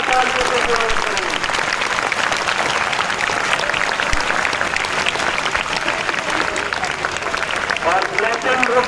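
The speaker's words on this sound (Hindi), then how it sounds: "एक बार जोरदार तालियों से स्वागत करें।" Loud, sustained applause from a school audience welcoming a guest at an Independence Day celebration, dense clapping filling the whole stretch with crowd murmur and voices mixed in.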